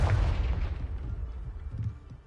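A Confringo blast spell explodes in the Hogwarts Legacy video game, a loud deep boom with rumbling low-end at the start that decays, followed by a second thumping burst near the end.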